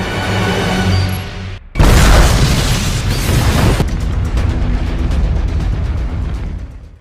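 A bomb blows up in a James Bond action film: a sudden deep, loud boom hits after a short quiet gap, then a roaring rumble of blast and debris fades into a lingering low background din.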